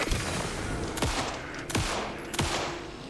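Video game gunfire in a zombie-style shooter, a steady roar of rapid shots with three heavier sharp blasts spaced about a second apart, loud and close, no talking.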